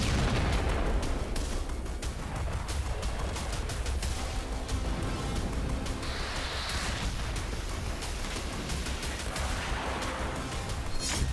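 Explosions from Russian Iskander missile strikes on a Ukrainian command post in Donetsk, a dense continuous barrage of booms and sharp cracks with gunfire-like bursts, loud and sustained throughout.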